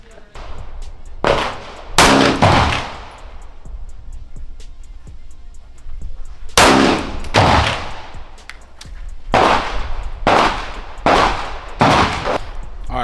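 Shots from a $1000 pistol at a shooting range, sharp loud reports fired singly and in quick pairs with short gaps, a magazine emptied over several seconds, close and echoing.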